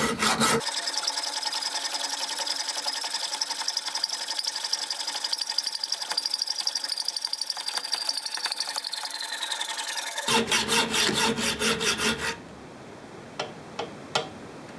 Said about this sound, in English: Hacksaw is an item of purgatory.